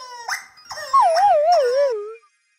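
A dog gives a few short rising yelps and whimpers, then a loud wavering howl that slides downward and stops abruptly, close and clear with nothing else around it.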